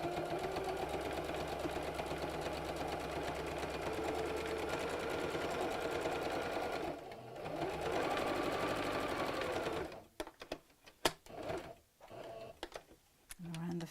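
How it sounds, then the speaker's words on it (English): A sewing machine stitches around the edge of layered felt for an Easter bunny door hanger, running loud and steady with a continuous rhythmic whir for about ten seconds, then breaking into short bursts and clicks with a voice underneath. "I'm going to sew all the way around the edge"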